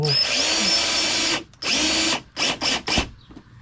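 A power drill drives screws into a thin 1/8-inch luan wall, giving one long whirring run, a second shorter burst, then three quick stuttering pulses, loud and close with no talk.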